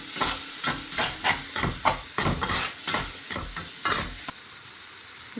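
Eggs frying in a pan with spiced masala, a steady sizzle under a quick, even rhythm of spoon scrapes and stirs that runs close and loud, then stops, leaving a softer hiss.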